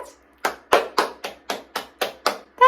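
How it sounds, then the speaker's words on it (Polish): Hands clap nine times in a steady, even rhythm for a young children's speech and learning exercise, close and clear, with a short voice sound right after the last clap. "Czy potrafisz zaklaskać?"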